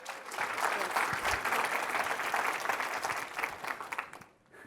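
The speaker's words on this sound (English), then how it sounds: "Round of applause for Sarah" Conference audience applauds at a Talent Connect talk, a full burst of clapping that holds steady, then thins and fades out near the end.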